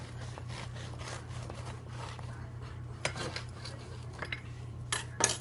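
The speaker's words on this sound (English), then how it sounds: "I'll just cut a slice just to show you how nice this bread just cuts" A knife saws through a slice of bread from a KITCHENARM bread machine, producing soft, rhythmic scraping strokes close by over a low steady hum, with a few sharper scrapes toward the end.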